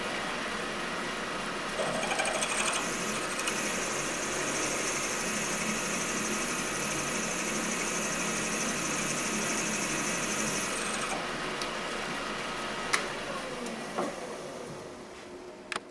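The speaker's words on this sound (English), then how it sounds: "we're gonna drill all the way through to let the spring into its cavity" A drill bores all the way through the pivot head of a diamond burnishing tool to make a cavity for a spring, with a steady machine hum and a thin high whine that holds for about nine seconds, then a few sharp ticks as it stops.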